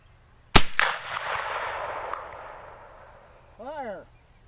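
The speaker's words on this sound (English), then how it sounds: "we're going to fire with the front trigger" A Hawken black powder rifle fires one sharp, loud shot, set off with the front trigger after the rear trigger is set; a rolling boom fades over about two seconds before a voice briefly follows.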